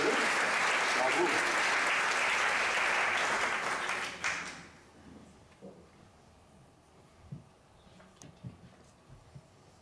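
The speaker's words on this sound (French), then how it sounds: "Applaudissements, j'aime beaucoup." An audience at a stage show applauds loudly and steadily for about four seconds, then the clapping dies away abruptly, leaving a quiet room with scattered faint knocks.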